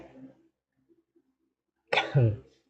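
A man sneezes once, sharp and close, after a few quiet seconds during a chess commentary session indoors.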